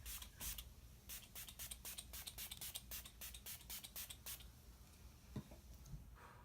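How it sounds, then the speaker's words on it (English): A rapid series of quick, hissing mist sprays pumps out close by, about a dozen short bursts in a row before stopping. "now I'm going to use the same Catrice spray for the rest of my face"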